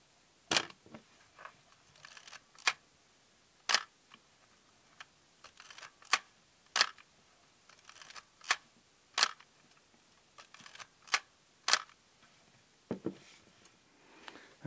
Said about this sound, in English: let's just listen to the shutter